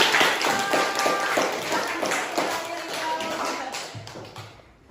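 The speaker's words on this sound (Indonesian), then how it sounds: "Tepuk tangan dulu." Students clap in an Indonesian classroom after a correct answer during a speech-structure lesson, a burst of quick, close hand claps with some uneven rhythm that thins and fades toward the end.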